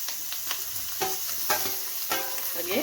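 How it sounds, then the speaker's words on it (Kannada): Onions and two medium tomatoes fry lightly in a pan, a steady close hiss broken by several scraping stirs of a spatula, with no talk. "ಇದನ್ನು ಲೈಟಾಗಿ ಫ್ರೈ ಮಾಡ್ಕೊಳ್ಳೋಣ"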